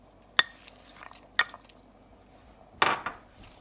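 Frozen okra added to a cooking pot for vegetable cook-up rice, heard as three sharp clinks and knocks against the pot at irregular intervals, with faint rustling in between, close and otherwise quiet.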